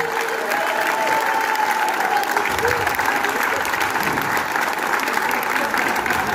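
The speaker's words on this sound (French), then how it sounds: "je pense qu'on va l'applaudir bien fort" Steady, dense applause from a festival audience at a closing speech, filling the whole stretch at an even loud level with crowd noise mixed in.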